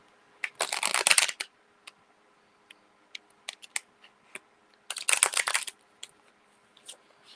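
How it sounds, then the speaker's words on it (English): Tarot cards from a Slavic Legends deck are riffle and bridge shuffled up close, two dense rattling bursts of the cascading deck separated by scattered light card taps and clicks. "Oh, I'm able to riffle shuffle or bridge shuffle."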